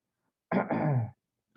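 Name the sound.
cough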